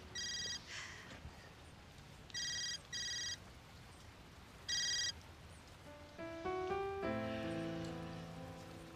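A telephone rings in short repeated electronic bursts, fairly quiet, followed by a rising melodic ringtone phrase near the end over soft background noise.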